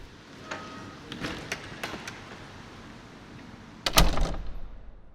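A church door creaks and clicks open with a few light knocks, then a louder rattling thump near the end; no voices.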